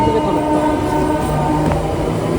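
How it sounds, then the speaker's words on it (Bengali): A Barasat local train at a railway platform, giving a loud, continuous rumbling hum of the carriages with a brief sharper sound near the end, no voices over it. "প্ল্যাটফর্মে ট্রেন দাঁড়িয়ে আছে"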